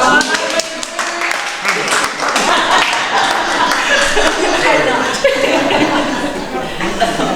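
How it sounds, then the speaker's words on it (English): Audience applause at a public conversation with a Board of Education superintendent, sharp clapping mixed with chuckles and laughter as people talk over it. "Ladies and gentlemen, clap it up for Dr."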